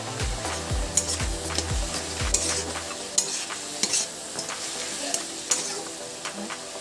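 Bori lentil dumplings frying with chopped greens in a pan, a soft steady sizzle under repeated light scrapes and taps of a spatula stirring, close and without talking.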